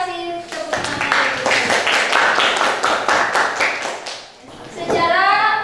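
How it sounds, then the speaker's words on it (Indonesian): Classroom applause during a physics lesson: a burst of children's hand clapping, fairly close and steady for several seconds, with a few young voices over it and a short lull near the end. "Bagus ya, kasih tepuk tangan."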